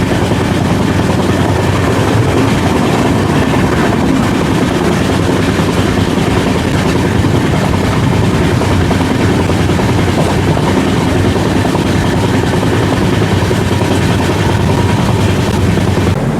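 Constant loud rumble and rattle of the Sainik Express running from Delhi toward Jaipur, heard from inside a crowded general coach; the dense roar stays unbroken throughout, with no talk.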